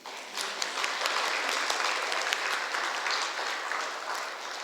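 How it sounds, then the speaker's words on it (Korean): A church congregation claps together in a dense, steady burst of applause during an evening worship service, lively and even from start to finish with no talking over it. "우리 하나님께 영광의 박수 올려드립시다."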